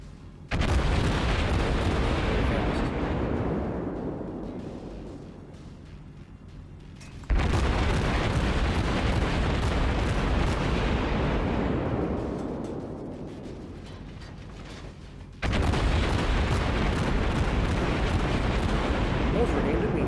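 Heavy battleship artillery salvos in World of Warships, three deep booming blasts spaced several seconds apart, each rumbling and fading slowly, with a voice talking faintly underneath.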